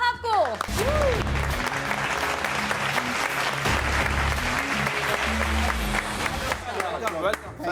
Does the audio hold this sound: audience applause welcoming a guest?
yes